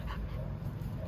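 A dog pants rapidly and lets out soft whimpers during a sit-training session with treats, close and continuous for about a second.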